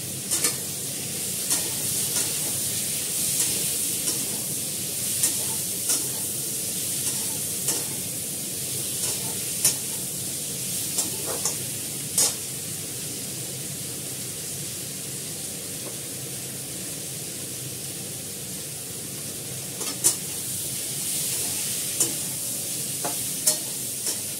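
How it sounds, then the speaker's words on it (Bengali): Potatoes with turmeric sautéing in a pan, a steady close-up sizzle and hiss of frying with frequent light scrapes and clicks of a spatula stirring at irregular moments. "হলুদ দিয়ে দিলাম, ভালো করে কষাবো"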